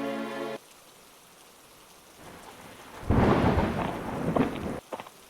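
A cartoon storm opens with a short musical tone, then after a quiet lull a low thunder rumble builds into a loud crash with heavy rain pouring down, before it cuts off sharply with a few scattered bursts and no talking.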